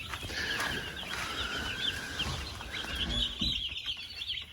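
Two-day-old chicks in a poultry shed give a busy mix of shrill peeps and soft clucking, several birds calling over one another close by, with no talking.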